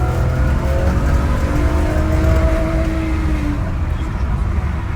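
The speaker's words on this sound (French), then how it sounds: "pour cet essai, on a testé la voiture en toute sécurité sur une route fermée" A homemade drift car runs on a closed road, its engine droning loud and steady with rising tones and some rough roar throughout.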